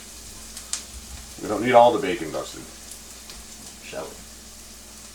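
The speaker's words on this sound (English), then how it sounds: "let's add some bacon in there" Bacon frying with translucent onions in a pan gives a soft, steady sizzle beneath a person speaking.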